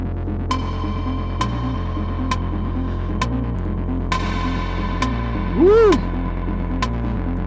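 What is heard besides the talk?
electronic kick drum with reverb on techno setup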